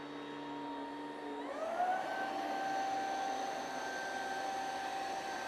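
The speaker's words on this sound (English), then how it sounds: "Like the suction on here, it sucks. This vacuum sucks," A Ryobi cleaning vacuum runs steadily and loud nearby while sucking up water, its motor whine rising in pitch after about a second and a half as the suction loads, then holding a sustained tonal drone with no talking.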